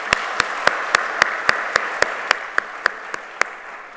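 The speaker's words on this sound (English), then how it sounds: "Let us take a moment to acknowledge this with a round of applause." Applause at a corporate sporting event, heard as a steady, evenly spaced series of single sharp claps over a soft background hiss, roughly four per second, fading slightly at the end.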